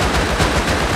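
Rapid gunfire in the video game Rust rattles in a dense, loud, continuous burst of overlapping shots.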